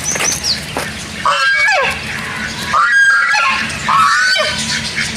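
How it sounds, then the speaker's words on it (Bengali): Domestic geese in an amusement park's animal enclosure give three loud, nasal honks spaced about a second and a half apart, close by over a steady murmur of background noise. "রাজহাঁসের ডাক"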